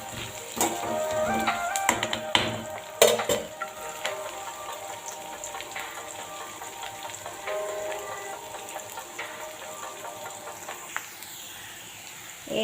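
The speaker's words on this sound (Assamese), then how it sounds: "এয়া পিয়াজ ভাজি আছোঁ।" Sliced onions fry in hot oil in a pan, a continuous crackling sizzle with scattered pops and a few louder stirring clatters early on, close by with no voices.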